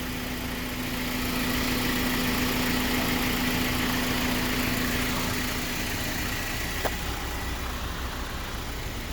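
A 2005 Acura RSX Type S four-cylinder idling steadily at close range, a smooth, even hum with a faint low drone and one brief click near the end, with no voices.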